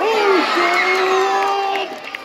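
A school crowd cheers and shouts for a teacher at a teachers' ball-throwing-into-a-basket contest, with a loud, steady roar of voices and sustained whoops that fades near the end.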